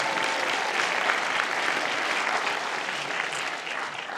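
Audience applause at a film premiere screening in a cinémathèque, a steady wash of many hands clapping throughout, moderately loud and even, with no break.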